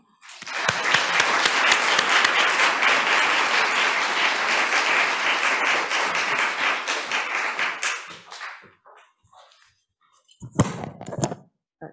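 An audience at a law lecture breaks into dense, loud applause that holds steady for about eight seconds, then fades to scattered claps, followed by a few knocks and thumps.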